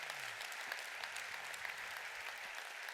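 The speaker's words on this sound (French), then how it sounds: "on peut s'applaudir" Applause from a seminar audience of entrepreneurs, a dense, even patter of many hands held at moderate distance, steady throughout with a faint low murmur underneath.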